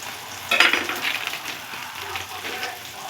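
Onions and tomatoes frying in a pan with salt, a soft continuous sizzle that sharpens with a brief clatter of stirring early on, then settles back to a low crackle.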